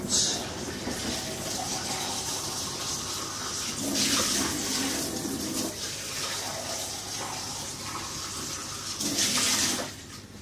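A kitchen tap runs steadily while a Slimfast shaker is rinsed out. The water hisses in a continuous stream with a few louder splashes.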